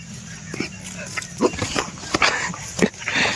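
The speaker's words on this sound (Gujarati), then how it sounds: "જોડેના ડોગા" Neighbour's dogs next door bark in several short, sharp bursts, moderately close, while people talk over them.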